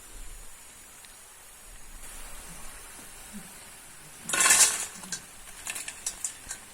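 Crisp, dry rustling and scraping as crunchy fried potato chips are stirred, with a brief louder clatter midway and softer scattered crackles around it.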